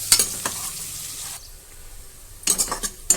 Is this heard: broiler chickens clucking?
no